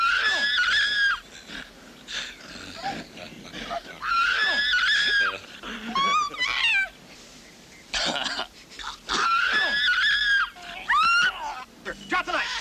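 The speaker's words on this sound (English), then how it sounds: "they keep looping this terrible scream" A terrible scream from the 1987 horror film Blood Rage repeats over and over in loops, shrill and strained cries returning in bursts with short gaps between them.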